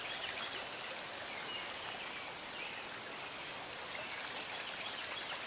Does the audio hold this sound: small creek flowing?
yes